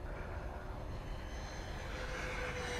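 A Freewing F-14 Tomcat RC jet makes a low presentation pass, its electric ducted-fan whine a steady, moderately distant drone that holds level and swells slightly toward the end, with no voices.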